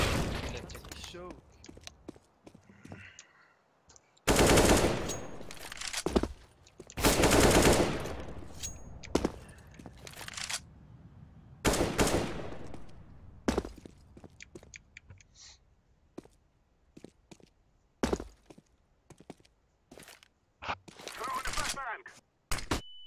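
Bursts of automatic rifle fire and single shots ring out in a CS:GO match on the Cache map, irregular and loud, with quieter gaps between volleys and some talking.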